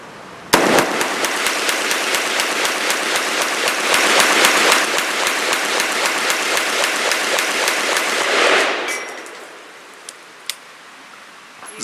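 A Bear Creek Arsenal Bear Essential rifle empties a full magazine of Barnaul steel-cased ammunition in a fast, steady string of sharp, loud shots lasting about eight seconds, then stops, leaving faint clicks and rustle.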